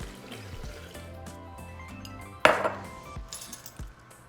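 Two cups of water are poured into a blender cup while chilaquiles sauce is being made, with a sudden splash and gurgle partway through followed by a few light clinks of the cup.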